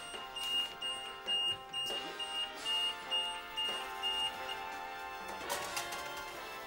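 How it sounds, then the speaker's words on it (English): A series of short, high electronic oven timer beeps repeats at a steady pace, fairly quiet, mixed with a few clattering knocks nearby. "The oven's beeping."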